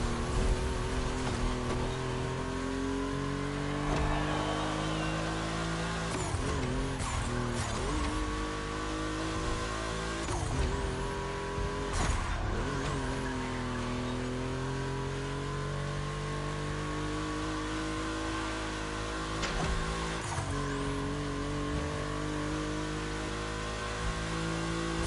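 Race cars, a Porsche 911 and an Audi Quattro, roar around a track in a video game, engines droning loud and steady with repeated revving swells, gear shifts and brief tire squeals over about twenty-five seconds.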